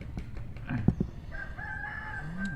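A rooster crows once at moderate distance, a drawn-out call heard at a Thai seafood meal of oysters, with faint background clatter and no talk.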